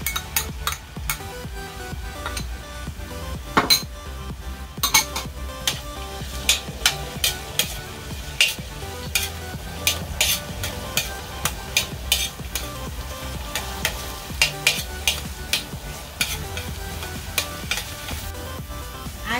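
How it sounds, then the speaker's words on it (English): Garlic sautéing in a pan makes a dense, continuous crackling sizzle with frequent sharp pops and spatters, close and fairly loud, and a few utensil knocks show through. "Add the garlic and saute it until it turns golden brown."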